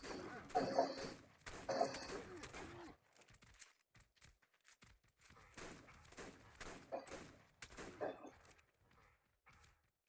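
Gunfire in the survival game Ark: Survival Evolved comes as a burst of sharp shots early on, then sparser cracks and thuds further on, under a player's talking.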